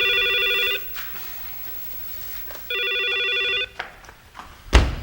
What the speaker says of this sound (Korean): 권 선생님, 전화 받으세요.